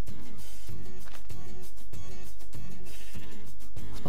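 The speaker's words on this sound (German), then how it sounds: "Was macht unser Schaf auf unserem Feld?" Sheep bleating in Minecraft, a loud repeated bleat with steady pulses over game music, with no talking.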